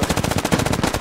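Sustained automatic heavy machine gun fire in the military shooter Squad, a fast rapid rhythm of close, loud bursts that runs unbroken for the whole second with no talking.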